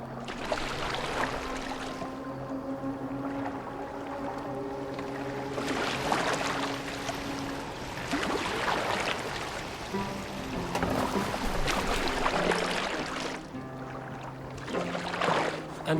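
Rowing a boat on water in Assassin's Creed Valhalla, with a steady wash of water and oar swishes, rising and falling under a droning musical score, plus periodic louder splashing surges.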